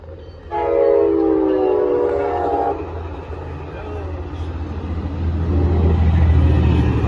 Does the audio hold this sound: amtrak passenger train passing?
yes